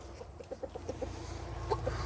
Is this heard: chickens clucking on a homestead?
yes